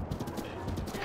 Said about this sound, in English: I thought we were horseback riding.